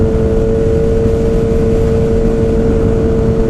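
A 2019 Kawasaki Ninja ZX-6R with an M4 GP full exhaust drones steadily while riding, a loud continuous engine note with a strong low rumble and a sustained tonal hum, no talking over it.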